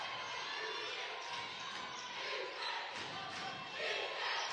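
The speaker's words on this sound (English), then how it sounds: "Crowd is into it." Crowd cheering in a gym at a North Paulding vs Norcross girls high school basketball game, a broad sustained roar in the background with swells and faint bounces, with no clear voice.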